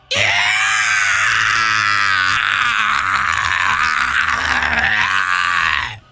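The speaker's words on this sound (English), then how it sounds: "Frieza starts screaming in pain." A loud, sustained anime scream of pain from the character Frieza, strained and wailing with a rough, groaning edge, holding steady for about six seconds before cutting off, with no speech.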